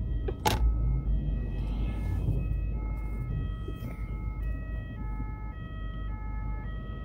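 An ambulance siren wails steadily in the distance over a low rumble of traffic, after a sharp click at the start.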